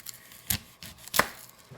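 A knife chops an onion on a board for meat bun filling, a few distinct close cuts with soft taps between, quiet and unhurried.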